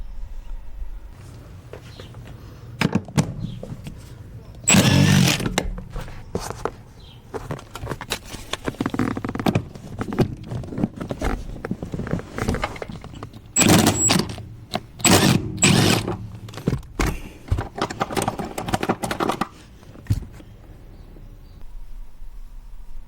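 A ratchet and wrench work the 14 mm bolts of a Lexus GX passenger seat. Bursts of rapid metallic clicking and clatter come close up, with quiet pauses between them.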